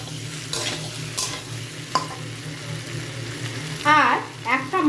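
Drumstick pieces and potatoes fry in a pan while being stirred, a close sizzle with scraping stirs and a couple of clinks over a low steady hum.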